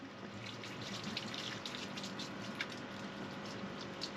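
A tap runs faintly and steadily aboard a sailboat as water rinses toothpaste off a mask, with soft splashing and trickling and no voices.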